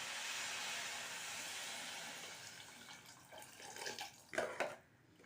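Water pours into wheat rava tomato rice in a pan, a steady splashing rush that fades and ends with a few gurgles and splashes, close and alone.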